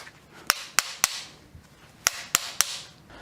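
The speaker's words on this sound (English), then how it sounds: "Just hammer it with a lithium battery." Sharp metallic hammer strikes ring out in two uneven groups of three, loud and close, with quiet gaps between, made by hammering with a lithium battery on a Nissan 200SX.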